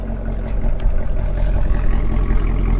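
A Chevrolet Camaro SS with its stock exhaust idles in sport mode, a deep low rumble with a slightly uneven lope, steady and close.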